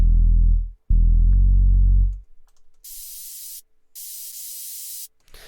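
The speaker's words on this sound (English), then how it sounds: "the most important sounds that you should have in every single Supersaw, it'd be the main Supersaw, obviously, white noise, and a sub bass" Future bass supersaw layers played in turn: a loud low-pitched sustained synth tone sounds twice, then separate bursts of bright filtered white noise follow after a short gap.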